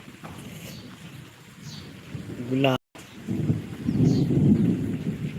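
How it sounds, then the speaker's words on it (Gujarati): Thunder rumbles low and heavy during a rainstorm, with a steady rain hiss underneath and a person speaking briefly. "વીજળી થાય છે મારા વાલા જોરદાર કડાકા બડાકા"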